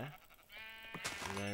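Sheep bleating in a video game, one short bleat rising clearly near the end after a brief quieter stretch, close and fairly loud.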